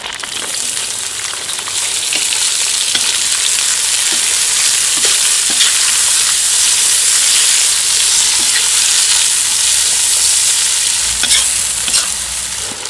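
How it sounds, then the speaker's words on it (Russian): Onions frying in a kazan for Uzbek plov over an open fire, a loud, steady sizzle with repeated stirring scrapes and clicks, close and continuous with no talk. "И выкладываю весь лук сюда."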